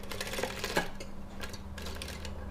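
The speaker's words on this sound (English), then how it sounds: "I'm going to pull down on the bottom of the bonnet and then crank forward" An Erlbacher sock knitting machine is cranked forward by hand, giving a quick run of light mechanical clicks and ticks over a low steady hum, close and moderately quiet.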